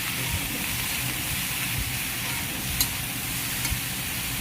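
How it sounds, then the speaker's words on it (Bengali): Vegetables frying in a pan as they are stirred and mixed: a dense, even hiss of sizzling oil with a few faint scrapes of a spoon, steady and close, without any talking. "তারপরে সবজিটা দিয়ে ভালো করে নাড়াচাড়া করে নেব।"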